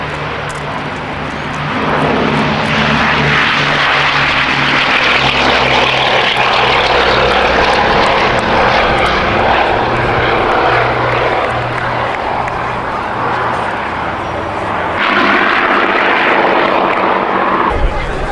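A de Havilland Mosquito's Merlin engines roar steadily for a long stretch, loud and close, the deep drone swelling as the plane passes.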